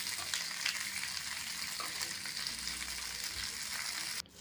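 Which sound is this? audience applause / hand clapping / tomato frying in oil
tomato frying in oil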